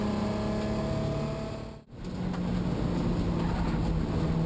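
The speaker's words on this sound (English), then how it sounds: "the engine just sounds terrible." A rough, droning race car engine in a 2017 Nissan 240SX, running poorly, roars steadily at close range, briefly dipping out before returning with the same uneven, strained tone.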